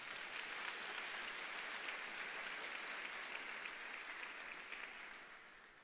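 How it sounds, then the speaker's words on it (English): A large audience at a hackathon opening ceremony applauds the mentors, dense continuous clapping throughout that fades slightly toward the end, heard from a distance in a big hall. "Let's get a round of applause for the mentors."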